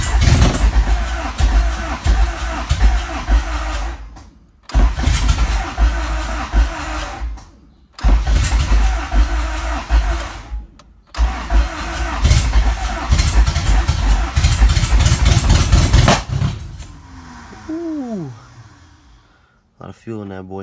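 A Honda H22 engine in an EG hatchback fires up and runs loud and close, rough idle and revving in bursts broken by short gaps where it stalls or cuts out, before settling lower near the end.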